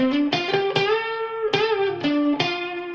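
A Harley Benton SG kit electric guitar plays through a Blackstar amp on a clean setting, with a handful of picked notes that ring out clearly and sustain one after another, bright and close.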